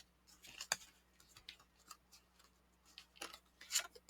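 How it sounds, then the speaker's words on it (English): Cards are drawn one by one from a tarot deck, giving faint, scattered dry slides and snaps, with a couple of sharper flicks near the start and end, close by in a quiet room. "Let me just take out 3 cards here."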